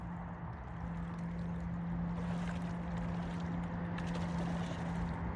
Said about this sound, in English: Even has reversed that little outboard.